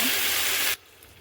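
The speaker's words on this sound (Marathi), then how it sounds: "गवारी शिजण्यापुरतं पाणी घालून घेऊया आपण." Water poured into a pan of cluster beans cooking in spice masala, a loud close rushing splash lasting under a second before cutting off to quiet.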